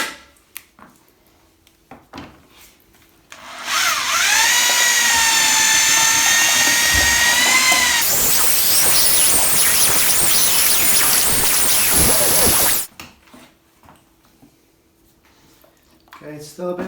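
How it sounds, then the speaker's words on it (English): A power mixer paddle churns plaster in a bucket, roaring loud and steady for about nine seconds with the pitch shifting as the load changes, bracketed by quiet handling sounds. "now get your mixer in."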